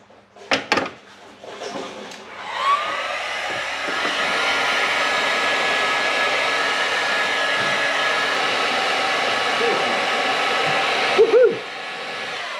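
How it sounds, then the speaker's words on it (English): Heat gun blowing onto a hardened hose in the engine bay of a Toyota Celsior / Lexus LS400. After a few brief clunks, a loud, steady, close whoosh holds for about nine seconds, then cuts off. "Might need the heat gun."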